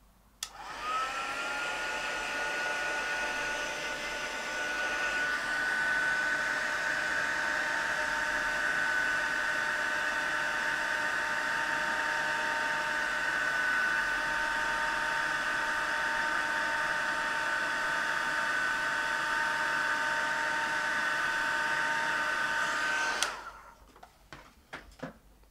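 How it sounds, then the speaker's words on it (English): A heat gun blasts hot air over embossing powder on a handmade card, a steady close-up whirring roar that holds evenly for over twenty seconds before cutting off abruptly. "Just going to turn the heat gun on now, and we're going to turn this into from a matte powder into a shiny powder."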